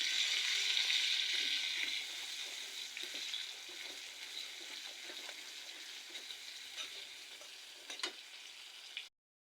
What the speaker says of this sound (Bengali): পেঁয়াজগুলোকে ব্রাউন কালার করে নিচ্ছি।